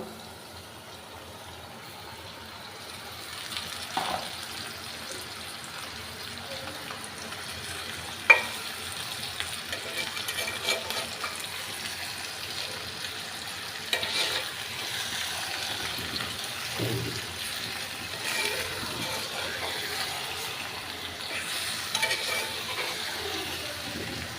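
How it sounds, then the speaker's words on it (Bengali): Potatoes, onions and chicken feet frying in a pan with no added water, heard as a quiet, continuous sizzle with occasional stirring scrapes and a small clink, building slightly after the first few seconds. "শুধু এইভাবেই ভাজা ভাজা করে নিব।"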